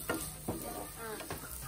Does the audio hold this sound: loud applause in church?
no